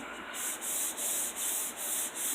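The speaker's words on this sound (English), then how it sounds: "I sanded it down with my 320 sanding block." Rhythmic hand sanding with a 320-grit sanding block, steady back-and-forth strokes producing a bright, hissing scrape repeated about five times, close and clear.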